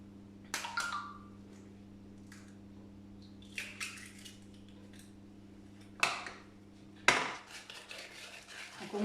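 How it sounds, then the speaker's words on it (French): Butter, brown sugar and egg are mixed into chocolate chip cookie dough, with scattered clinks and scrapes of a utensil against a bowl separated by quiet pauses over a low steady hum. "Donc on mélange bien pour avoir une pâte homogène et bien lisse."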